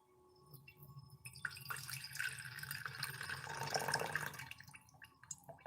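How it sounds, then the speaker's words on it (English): Rice water being poured off through a strainer into a cup while making IMO, a steady close trickle and splash of liquid running for several seconds before tapering off. "now I'm going to pour the water off."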